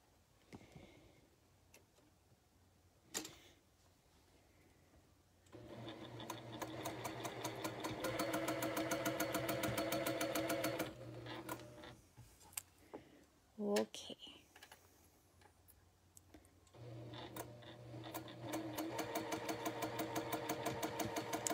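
A sewing machine stitches along a marked line on a quilt block, running in several bursts with rapid ticking needle strokes, separated by pauses and occasional clicks, while someone talks.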